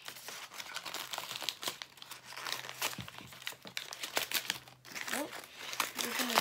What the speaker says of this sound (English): Ooh, this is a big rip.